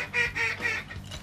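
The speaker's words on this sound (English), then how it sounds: "Ducks are flying" Ducks flying over a waterfowl blind in Nebraska give three or four loud, close quacks in quick succession.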